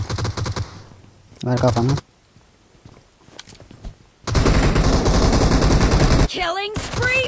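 Automatic gunfire bursts from PUBG Mobile gameplay, loud rapid rattling volleys in short clusters, with players talking excitedly over the shooting.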